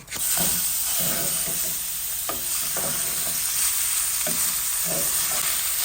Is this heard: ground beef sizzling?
yes